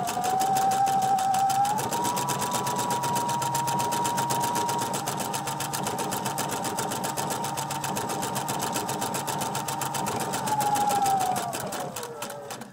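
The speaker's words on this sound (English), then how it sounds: "I'm just going to put my needle in the down position, and I'm just going to keep sewing." Sewing machine running steadily on flannel with a star stitch, a loud, continuous rapid mechanical whirr that holds for about ten seconds and then slows and stops, with no talking.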